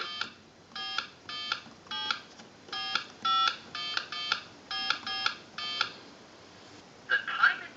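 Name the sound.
telephone touch-tone dialing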